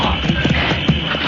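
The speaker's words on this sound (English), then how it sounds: "Horses galloping." Radio drama sound effect of horses galloping in rain, a steady run of hoof clip-clops against a background hiss, close and fairly loud.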